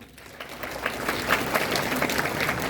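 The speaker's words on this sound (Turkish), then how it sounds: "Güçlü de bir alkış alalım." A crowd applauds at the opening of the Mimarsinan wedding hall in Çorum, clapping that builds from a softer start into a full, steady ovation of many hands.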